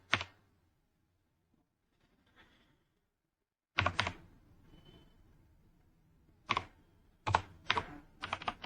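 Computer keyboard typing while an employee-name header is entered into an Excel attendance sheet: a short burst of key clicks, a pause, then several clustered bursts of close, crisp keystrokes in a quiet room.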